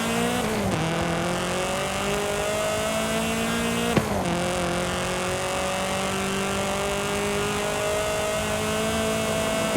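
A turbocharged four-cylinder race car in Forza Horizon 5 revs hard with a thin, whining engine tone, rising through gears with two sharp shift drops and a faint tire squeal, loud and continuous with no voices.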